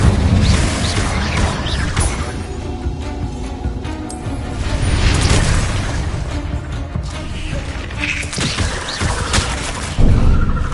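Confringo blasting spell explosions in Hogwarts Legacy, with repeated booming bursts and crashing debris over a dense, rumbling battle din and a sharp blast near the end.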